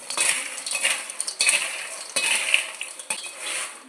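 A metal spoon stirs and mixes masala chickpeas in a dish, making close, rhythmic scraping and clinking against the sides, about a dozen quick strokes with no talk.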